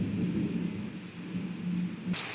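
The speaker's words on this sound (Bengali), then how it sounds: "শব্দটা শুনুন বৃষ্টির ঝেঁপে হচ্ছে" Heavy rain pours steadily during a thunderstorm in Durgapur's Steel Township, a dense continuous wash with a low rumbling undertone, heard close from an open doorway with no voices.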